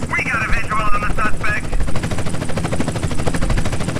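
A police helicopter in the video game GTA San Andreas drones with a steady, rapid rotor chop and a broad wash of noise throughout; a voice talks over the first second and a half.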